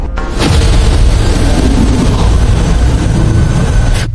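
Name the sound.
stone exploding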